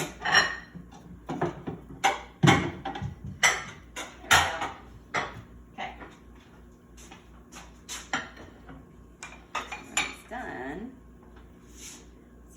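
Plates are grabbed and set down for French toast, with a series of sharp ceramic clinks and clatters spaced irregularly, close up, and a voice talking in between.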